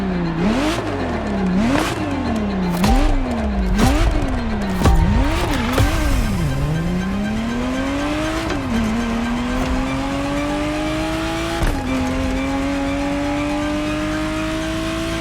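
Ferrari Testarossa in The Crew Motorfest: a loud engine revving hard up and down through several rapid gear changes, then settling into a long, steady rising drone as it cruises at speed.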